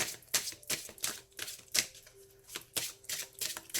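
A deck of tarot cards is shuffled by hand, producing a quick series of close, crisp riffling and slapping bursts in an irregular rhythm, with no talk.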